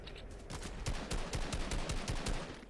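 Rapid bursts of gunfire from the video game Fortnite rattle in quick succession, a string of sharp repeated shots at moderate level with no talk over them.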